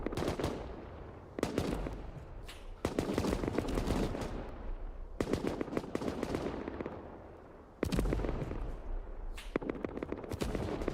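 Cannons on temporary boats in Rust pound out repeated heavy volleys during a naval war event, loud dense bursts lasting a second or two each, separated by short gaps.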